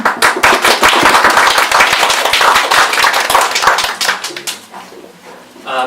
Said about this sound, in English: please have a round of applause for him